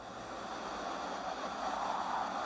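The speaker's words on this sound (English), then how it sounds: "Wind." A steady, soft whooshing wind rushes on its own, swelling slightly toward the end.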